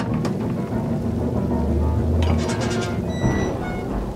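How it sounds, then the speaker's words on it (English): Steady rain in the video game Detroit, a continuous loud hiss with low rumbling and a few sharp splashes or taps, and brief other noises over the top. "Well, it's raining"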